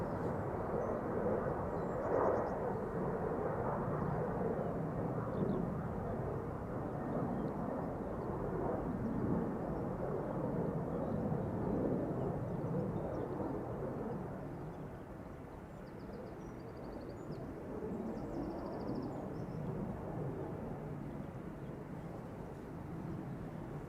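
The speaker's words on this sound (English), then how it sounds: "Narrowbody's taking off from the center runway for the time being." A narrowbody airliner taking off from the center runway at Amsterdam Schiphol: a long, steady jet engine roar at some distance, broad and rumbling, easing slightly partway through before holding level.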